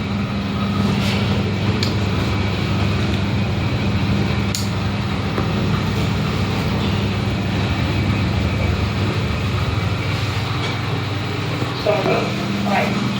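Elevator climbing in a Telok Blangah block, a steady loud mechanical hum and rumble resembling an MRT train, continuous throughout with faint clicks.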